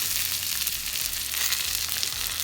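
Butter browning over raised heat in a pan beside porcini mushroom steaks, a steady close sizzle with a fine crackling hiss and a low hum underneath, heard alone without voices.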